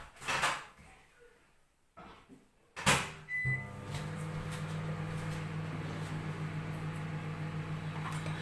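A few clunks and a microwave oven door thump, then a steady low mechanical hum of the microwave running with a faint tone, continuing evenly to the end.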